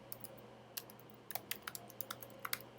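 Quick, light keystrokes on a computer keyboard, close and clicky, in an irregular run of taps that grows busier toward the end over a low steady background hum.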